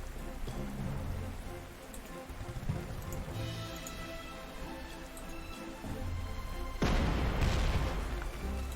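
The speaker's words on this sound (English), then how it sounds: "Well, it's raining" Steady rain in the video game Panzer Corps hisses and patters throughout, with a few low rumbles and a sudden louder surge of downpour near the end.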